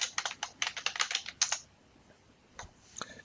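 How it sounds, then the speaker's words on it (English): Quick burst of keystrokes on a computer keyboard entering a name into a Python program, close and clear for about a second and a half, then near quiet with a couple of faint clicks. "I'm going to type in my name."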